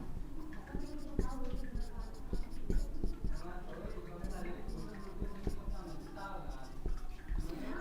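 Pencil writing on paper during a maths lesson: steady scratchy strokes and taps running continuously under a man's speech.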